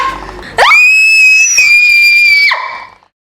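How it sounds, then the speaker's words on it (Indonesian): A girl screams in fear, a single loud, shrill, sustained shriek lasting about two seconds with a sharp onset and abrupt cutoff, close and alone. "kenapa teriak-teriak begini, sayang?"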